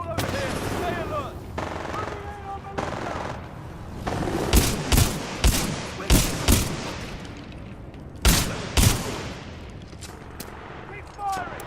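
Gunfire from Titanfall 2 combat: bursts of automatic weapon fire and sharp shots, some loud and close, punctuate a tense mix with voices shouting between volleys.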